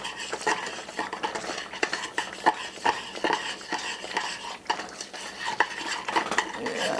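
A utensil stirs dissolving sugar in a pan while making caramel for a dark chocolate salted caramel tart, with busy, close scraping and clinking against the metal that keeps an irregular rhythm throughout.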